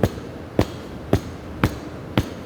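Five sharp, evenly spaced thumps of back blows on an infant during choking first aid, each a short hollow slap landing about every half second, close and moderately loud with no talking.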